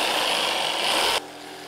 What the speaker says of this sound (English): For this application, I'm just going to use the jigsaw.